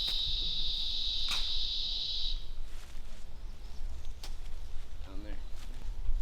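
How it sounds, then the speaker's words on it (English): Cicadas buzzing outdoors on a disc golf course during an amateur world championship round, a loud steady high-pitched drone for the first two seconds that then cuts off, with faint ambient noise and a brief bird call after. "The cicadas picked up right as he started to throw"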